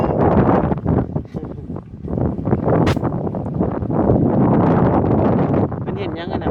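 Wind buffets the microphone outdoors in rural Thailand, a continuous loud rumbling roar that swells and dips throughout, with voices faintly present underneath.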